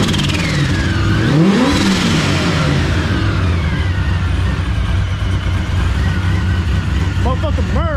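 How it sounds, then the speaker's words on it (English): The engine of a shortbed Chevrolet Silverado truck revs loudly up and back down close by, with a steady rumble beneath it and a brief chirping noise near the end. "No, I was telling you to rev it."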